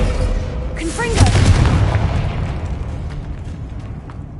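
A Confringo fire spell explodes in Hogwarts Legacy: one muffled boom after a short whooshing cast, then a low rumble that slowly fades over the following seconds.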